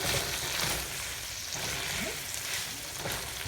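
Shrimp and rice vermicelli stir-frying in a hot pan for Singapore-style bee hoon, a steady close, loud sizzle with broadband hiss and a few scraping tosses throughout.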